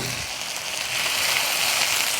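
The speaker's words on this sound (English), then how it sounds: "Frying it a bit as well." Continuous hissing sizzle of chili frying in a hot pan, steady and fairly loud, growing slightly stronger partway through.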